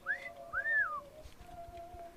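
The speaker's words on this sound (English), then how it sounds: "You hear a whistle in the distance already" A whistle sounds in two rising-and-falling tonal sweeps followed by a steadier held tone, moderately faint and alone, in a Christmas tabletop dice game scene.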